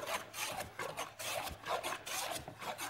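A toothed plane blade scrapes back and forth across a wooden piece in a steady rhythm of rasping strokes, close and moderately loud, with no talk.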